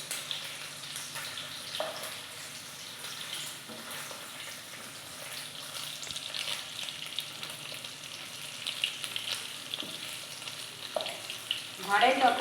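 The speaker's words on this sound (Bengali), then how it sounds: "দেখো, এইভাবে আমি এপিট ওপিট করে ভেজে নেব।" Eggs fry in a pan and are flipped from one side to the other, giving a soft, continuous sizzle with occasional light taps and scrapes of the turner, growing a little louder at the end.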